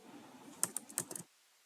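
Close, quiet keystrokes on a computer keyboard: a short burst of about six or seven clicks over half a second, then silence.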